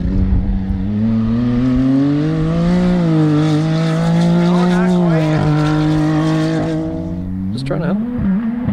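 Side-by-side fitted with a swapped Hellcat Demon supercharged V8, accelerating on a dirt track: a loud, sustained engine roar with rising pitch through upshifts and pops on the shifts, a voice talking over it.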